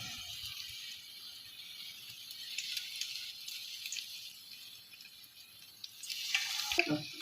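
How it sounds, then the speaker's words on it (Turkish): Faint, steady sizzling of cheese-filled pastry rolls frying in hot oil, with a brief louder crackle and rattle near the end. "Böreklerimizi hafif kızgın yağda kızartıyoruz."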